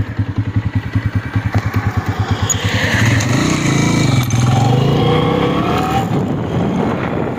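A motorcycle ridden along a village road, its engine starting with a pulsing, chugging idle that builds into a steady, loud, close drone as it accelerates away, with no talking.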